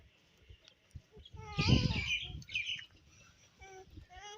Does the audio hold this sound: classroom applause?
no